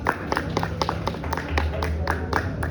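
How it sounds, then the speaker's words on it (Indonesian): A crowd claps in quick, fairly steady bursts of sharp hand claps at a comedy show, with a low hum and murmur running underneath. "Tepuk tangan. Tepuk tangan."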